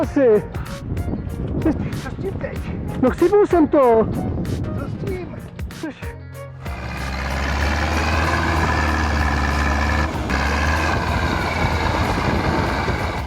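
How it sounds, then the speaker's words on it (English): A light tractor's engine drones steadily and loudly after a few seconds of people talking, its low rumble sustained as it labors climbing uphill while towing logs. "with such a light tractor, climbing uphill while towing logs behind is nearly bound to cause problems"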